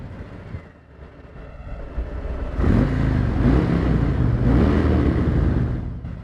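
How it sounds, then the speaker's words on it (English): A motorcycle with its stock exhaust idles low, then rises into a loud, throaty exhaust rumble that holds steady for several seconds. "See, stock exhaust. You can make it sound good."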